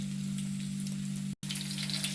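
Chicken satay sizzling steadily in a pan, a continuous close crackle and spatter with a low hum beneath and a brief dropout near the middle, no voices.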